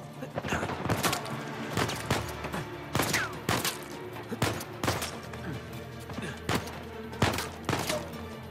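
Rapid volleys of gunfire in the video game Uncharted 4 crack out in repeated loud bursts, sharp shots spaced through a busy battle din, with a voice talking faintly underneath.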